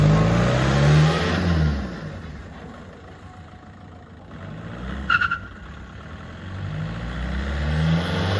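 An old 1990 turbocharged race car engine warms up with a rough, uneven idle, swelling into deep, loud revs at the start and again near the end, with a quieter rumbling lull between.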